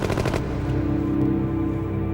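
Wartime gunfire as soldiers shoot at the enemy: a quick rattling burst of rapid shots at the start, followed by a lingering, rumbling echo and background noise.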